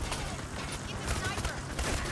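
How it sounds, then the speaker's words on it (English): Gunfire during a heist in the video game Payday 3, with rapid bursts of shots crackling amid a dense, busy mix of game noise, and a person talking over it. "I'm confusing myself with where the gunshots are coming from"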